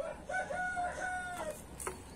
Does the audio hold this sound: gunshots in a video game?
no